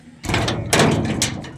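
A door pulled shut by a water-weighted hanging bottle on a wire bangs closed with two loud, close thuds and a rattling after-clatter, with no talking over it.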